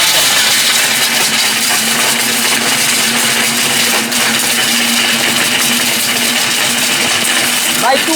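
A powerful electric appliance with its lid locked runs at full speed, a loud, steady whirring roar that holds constant for the whole stretch, with no talk.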